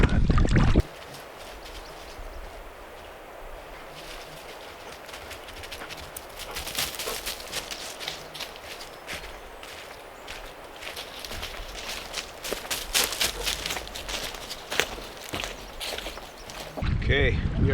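A solo canoe is paddled on a Boundary Waters river, with soft, rhythmic stroke splashes and light knocks repeating steadily at close range against a wind-swept outdoor background.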